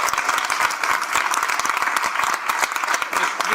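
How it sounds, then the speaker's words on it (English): A crowd applauds continuously, dense clapping at a steady loudness throughout, with a few voices mixed in. "maybe a round of applause for"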